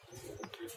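A white pigeon coos in a short, low, throaty murmur close by, with a faint higher chirp near the end.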